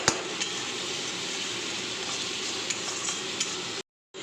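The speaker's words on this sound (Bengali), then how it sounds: "এবার এটাকে কষাতে হবে।" Jackfruit kofta masala being stir-fried in oil in a pan, giving a continuous close sizzle with light stirring scrapes, then a brief cut to silence near the end.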